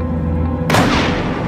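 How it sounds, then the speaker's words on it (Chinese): A 1.5-pound high-explosive charge detonates inside the cement-caked drum of a concrete mixer truck: one sudden loud boom that cuts through the low rumble before it and then decays into a roaring tail. "随着一声巨响，搅拌车后面的钢门喷出大量烟尘"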